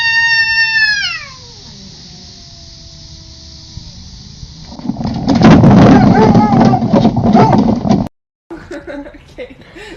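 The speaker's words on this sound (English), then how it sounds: "This cat was in trouble and yelled for backup from her big brother." A house cat lets out a loud, falling yowl, then a long low moan, before a burst of frantic scuffling and hissing near the mic, cut off abruptly.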